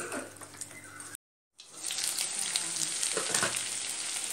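Chicken sizzles and fries in a pan with curd for a butter chicken fry, a steady close crackle that cuts out briefly near the start and then resumes with faint stirring.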